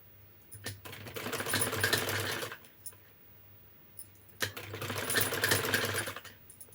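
A sewing machine stitches piping around the neckline of a lined blouse in two close bursts of rapid, rattling stitching separated by a short pause with a few light clicks.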